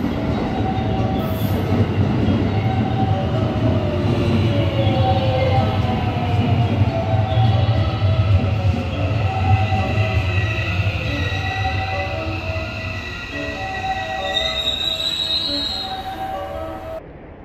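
A Tokaido Line local train bound for Nishi-Akashi at Kobe station rumbles loudly and steadily, with wheels squealing at high pitch and a faint announcement tone in the background.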